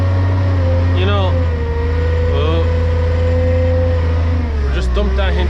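A loading shovel drives a near-full load of silage up a silage pit, its diesel engine loud and steady with a low rumble throughout, a voice talking briefly over it.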